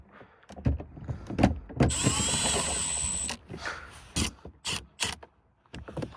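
During engine work, a 10 mm bolt is worked loose with a tool. Bursts of close mechanical clicking and rattling are broken by a sustained whirring stretch midway, with short pauses between the bursts.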